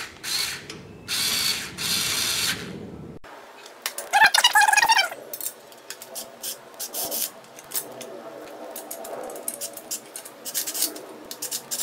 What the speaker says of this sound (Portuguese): Eu vou novamente tentar usar a parafusadeira com a haste flexível para parafusar os parafusos até o final.